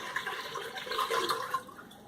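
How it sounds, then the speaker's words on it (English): Water poured from a container into a cooking pot while making elderberry syrup, a quiet, brief trickling and splashing with faint bubbly detail. "we're just going to pour it into this pot right here"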